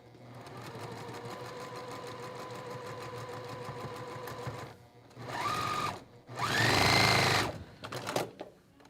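A sewing machine runs steadily for about five seconds while stitching a quilt block seam, then gives two more short, louder bursts of stitching after a brief pause.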